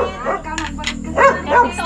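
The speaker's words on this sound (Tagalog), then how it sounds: "Yun ang aso." A dog barks in a rural Philippine provincial home, several sharp barks spaced across the moment while people chat in the background.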